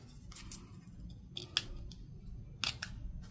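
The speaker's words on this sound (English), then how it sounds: "now I'm going to cut these up to the corner with my little scissors here" Small scissors snipping through paper, close and quiet, a few crisp isolated cuts with short pauses between them, over a soft low background hum and no talk.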